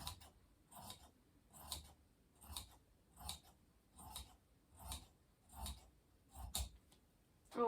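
Scissors snip through the fabric of a maxi dress in a steady run of about nine crisp, evenly spaced cuts, close and fairly quiet, with no talking.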